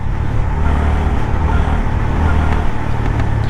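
A steady engine rumble of a Honda CB350 motorcycle cruising along a road, loud and continuous, with no speech.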